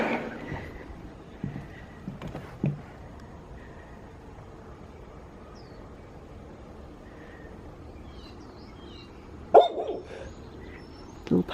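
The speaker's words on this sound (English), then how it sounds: "Little puppy lives next door." A small dog next door to a townhouse barks a few times, faint and distant, with scattered short yaps against a quiet indoor room tone.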